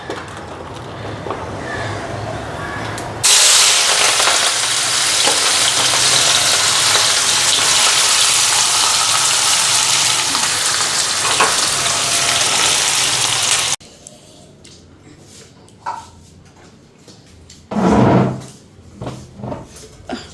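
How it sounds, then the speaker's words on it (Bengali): Bitter gourd slices hit hot oil with a sudden loud, sustained sizzle that roars steadily for about ten seconds, then cuts out, leaving quieter kitchen clatter and a few knocks. "আগে তিতা করলাগুলি ভাজা নিই খাওয়ার সময় বেগুনগুলি ভাজম গরম গরম তো তেল গরম হয়ে গেছে"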